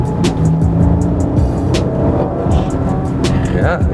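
A Maserati Ghibli's engine and exhaust rumble steadily from inside the car while driving, loud and continuous, with a rising rev near the end.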